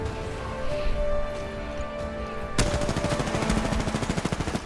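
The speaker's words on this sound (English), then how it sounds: "I kept on fucking shooting you!" Rapid automatic gunfire in the Apex Legends video game on PS4, a dense burst of rattling shots that starts partway through and keeps hammering close and loud over a steady background of game sound.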